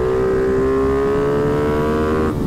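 A mini GP motorcycle on a track holds a steady, high buzzing engine note close by, loud and continuous, then eases off briefly near the end.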